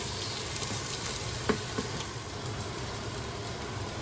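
Sardines sauté in a hot pan, giving a steady, close sizzle and frying crackle throughout, with a couple of brief clinks from stirring.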